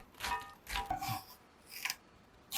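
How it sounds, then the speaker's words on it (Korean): Onions being chopped into small pieces with a knife on a board, heard as a few separate bursts of cutting strokes with gaps between them, close and fairly quiet, with no voices. "양파 2개는 작은 크기로 잘라 넉넉한 웍에 넣어 놓으세요"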